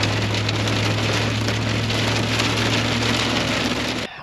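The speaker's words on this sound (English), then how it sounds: "Found me a spot, but we got hailstorm." Hail pelts down steadily in Minnesota, a dense, continuous rattle of stones drumming on a surface over a low constant hum, loud and close with no voices.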